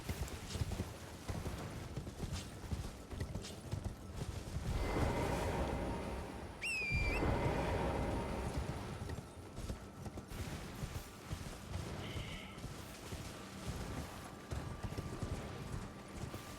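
In Elden Ring, a horse's hooves clip-clop at a steady gallop, with a brief whinny partway through, all fairly quiet under game ambience.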